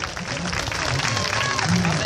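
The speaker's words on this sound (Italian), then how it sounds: "Applauso, dai, facciamogli un applauso" An audience at a September fair applauds in a steady, dense burst of clapping, with a voice calling out over the crowd noise.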